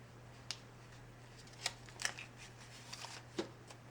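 Paper being folded for a paper angel tree ornament, a few soft, sparse crinkles and creases close by over a steady low hum.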